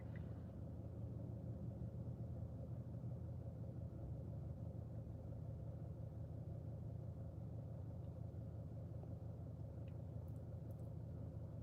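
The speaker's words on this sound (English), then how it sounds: "Or maybe you're just hearing the car because the car is on, the car engine." A car engine idles steadily from inside the cabin, giving a constant low rumble and hum that holds evenly throughout with no speech.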